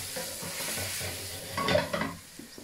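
A spoon stirs goulash seasoned with black pepper in a pot over a soft, steady sizzle, with a brief scraping, clattering swell near the end, close and quiet.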